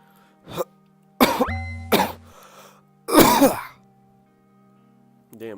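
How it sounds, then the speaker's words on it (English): A man coughs into a microphone during a live forex trading stream, with three or four sharp, loud coughs and throat-clearing bursts separated by short pauses and a faint tonal background. "I just coughed right into the mic."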